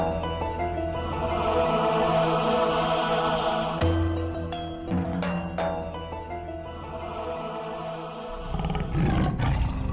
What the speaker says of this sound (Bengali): কিন্তু ডাকছে তো বাঘের মতো।